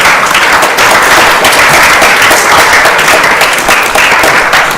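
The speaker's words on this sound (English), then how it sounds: "Please give her a big round of applause." Audience applause filling a hall for feast sponsors at a community gathering, loud, dense and sustained for the whole stretch with no voices on top.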